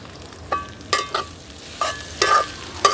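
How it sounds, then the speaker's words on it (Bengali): Jute leaves tossed with browned onion in a hot pan, with a spatula scraping and stirring in several separate strokes over a soft frying sizzle; no one speaks. "হালকা হালকা লাল হয়েছে, এখন আমি শাকগুলো সব দিয়ে দিতেছি"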